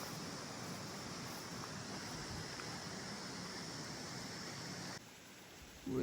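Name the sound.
flowing water of a stream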